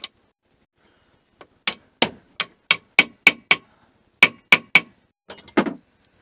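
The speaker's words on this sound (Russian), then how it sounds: "взять и подстучать все это дело молотком." A series of sharp metallic hammer taps on a gearbox part being fitted on a Muravei motor scooter, about a dozen in quick irregular bursts, close and clear against silence.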